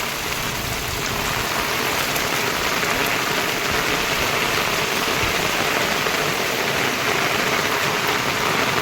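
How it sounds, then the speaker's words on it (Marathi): Heavy rain pours down on a village in a dense, constant roar, steady and loud throughout with no voices. "हा मुसळधार पाऊस पडतो आत्ता"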